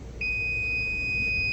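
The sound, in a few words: beep from UFO-Sense device on plugging in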